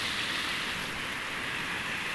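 Rain pours steadily in a rural hillside area of Naringgul, West Java, a dense broadband wash of falling water heard alone, loud and unbroken.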